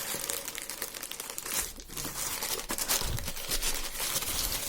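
A plastic parcel bag from an AliExpress order is handled and unpacked close up, giving continuous crinkling and rustling with a few sharper crackles and tearing bursts, and no talking.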